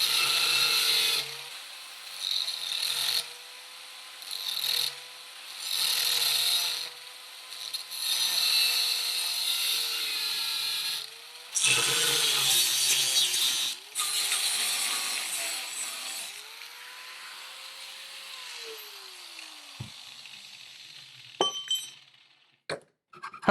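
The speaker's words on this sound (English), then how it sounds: "I really recommend using a hacksaw to cut through the center, as we really don't want to damage the threading" A hacksaw cuts through the threaded screw of a quad-screw vise, rasping in repeated back-and-forth bursts with brief pauses, then slowing to a few final scrapes and clinks near the end, with no talking.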